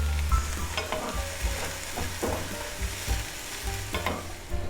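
Carrots sizzle and fry in a hot pan, stirred now and then, a steady close crackle with scraping under it and no voices.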